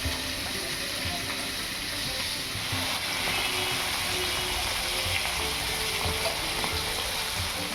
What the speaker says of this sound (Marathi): त्याच पद्धतीने आपल्याला दोन्ही साईडने मासे छानपैकी तळून घ्यायचे